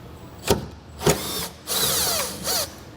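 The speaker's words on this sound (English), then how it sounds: "we've got a T30 Torx bit. We're going to remove the rear 3 screws." Power driver with a T30 Torx bit backing out the rear screws on a truck bed rail while fitting a Yakima OverHaul HD ladder rack, two short whirring bursts followed by two longer close runs with squeaky turns.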